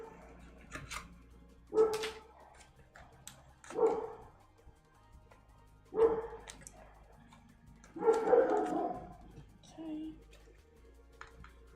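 Dogs let out spaced, close barks roughly every two seconds, each a short loud burst, with faint background noise between them.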